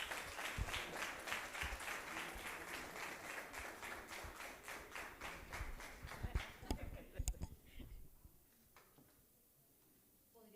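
Applause from a conference audience at an arts and humanities congress, a dense, even clatter of many hands that thins into scattered claps and fades to quiet near the end.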